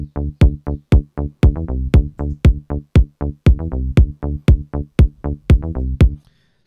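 Indie dance bass line played dry without sidechain compression, a steady run of plucky synth bass notes about three per second with sharp attacks and bright overtones, loud and alone, no pumping, ending abruptly.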